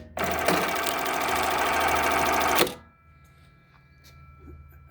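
A Jack industrial button-sewing machine runs a fast stitching cycle, a loud continuous mechanical rattle for about two and a half seconds that stops abruptly, leaving quiet room tone.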